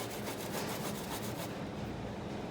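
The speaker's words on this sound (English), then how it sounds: "So here is our ginger. I've already peeled it, and now I'm going to start grating it." Peeled fresh ginger grated by hand for aloo gobi saag, a steady close scraping rasp that runs continuously for about a second and a half before easing off.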